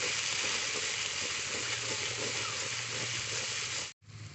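Spices with cumin powder and salt frying in a pan, a constant close hiss of sizzling oil with faint stirring, cut briefly near the end.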